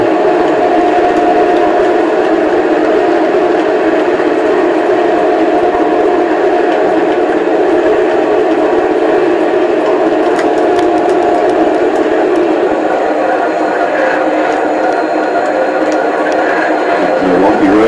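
Model trains with onboard sound systems run on a layout, giving a continuous rumbling drone with faint tonal hums and a brief swell near the end, with no talk over it.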